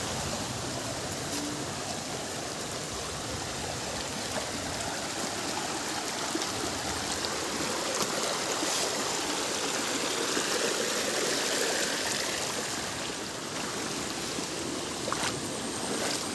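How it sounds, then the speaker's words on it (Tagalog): A mountain stream rushes steadily over rocks, a continuous broadband wash of flowing water heard close and loud, unchanging throughout with no voices. "Dumaloy na ang tubig mula sa kabundukan."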